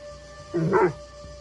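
A dog in the video game Assassin's Creed Shadows gives one short, close bark or yip that slides into a whine, set over a quiet ambient hum.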